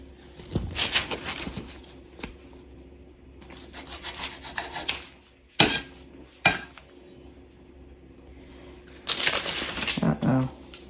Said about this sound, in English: I'm going to kind of score where I want to cut these.